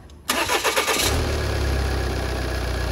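A Volvo S60 2.0 diesel car starts up close by: a brief churn of the starter catches, and the engine settles into a steady, loud diesel idle.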